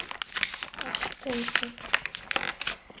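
Sushi packaging is torn open by hand, with plastic crinkling and ripping in short quick bursts, close and quiet.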